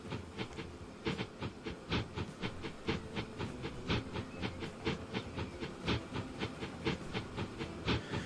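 An early LNWR steam locomotive runs in the Transport Fever 2 game, its rhythmic exhaust chuffs beating steadily with hissing steam and a faint rail clatter, with no voices.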